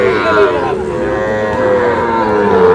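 Sahiwal breed bull calves at the Ambari cattle market in Dinajpur, one drawn-out loud moo filling the moment, close by with faint market murmur behind.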